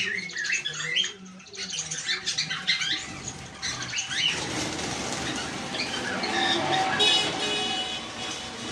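Busy indoor din of chirping, squawking caged pet birds, such as lovebirds, Java sparrows, cockatiels and conures, in a bird shop, with bursts of wing flutter, traffic noise and toots in the background, occasional voices nearby.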